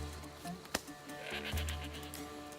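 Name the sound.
goat bleating in Assassin's Creed Odyssey video game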